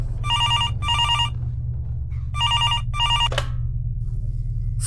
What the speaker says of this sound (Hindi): अभी वो घर पहुंची ही थी कि उसका फोन बजा।